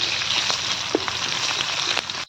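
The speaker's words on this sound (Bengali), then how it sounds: "এরপর ক্যাপসিকামগুলো ভেজে নেব" Steady crackling sizzle of capsicum frying in hot oil, close up, with a few louder pops scattered through and no voices.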